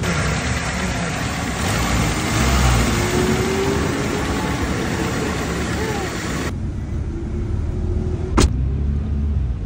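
A project car engine running steadily on a road test, a continuous loud rumble with road noise, someone talking over it, and a sharp click near the end.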